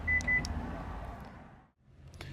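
A 2017 Kia Niro Touring's key fob triggers the panic alarm: a couple of short electronic beeps over a loud, rushing car alarm noise, which cuts out briefly and then returns.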